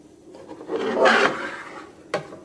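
Scissors trim fabric held in an embroidery hoop, a single soft rasping cut followed by a short sharp snip, quiet and close.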